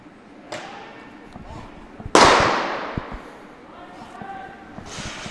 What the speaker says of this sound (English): Long-time official Ron Bemka shooting the gun there.